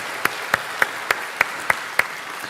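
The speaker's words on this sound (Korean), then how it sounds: "우리 상반기 동안 함께 하나님께 감사의 박수 한번 올려드리기 원합니다" Congregation at a Korean Sunday church service claps in thanks to God: about seven sharp, evenly spaced claps in a steady rhythm, fairly faint over a soft room hum, with no talking.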